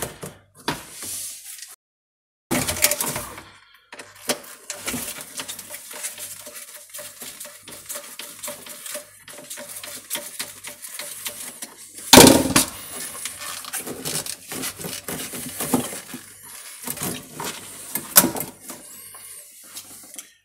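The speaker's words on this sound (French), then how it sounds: "ça c'est mon lave-vaisselle, donc je vais le retirer" A dishwasher is pulled out from under a kitchen counter in bursts of scraping, rattling and clunking, with metal and dish-like clatter and a sharp knock near the middle, separated by short quiet pauses.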